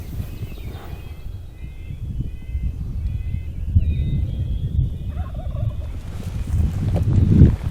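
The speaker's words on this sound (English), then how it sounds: "Turkey finally got to gobbling." Merriam's wild turkey gobbling in the Montana spring woods at dawn, a faint distant gobble repeated a few times over low rumbling wind and rustling noise, no voices.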